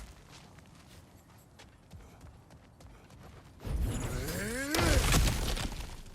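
Cracked ground breaking apart in God of War Ragnarok, a loud crunching smash with debris scattering and rumbling after a stretch of quieter footsteps and ambience.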